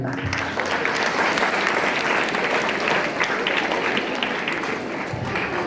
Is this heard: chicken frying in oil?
no